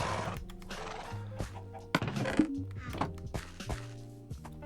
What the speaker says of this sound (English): This was where the horses went. I had two.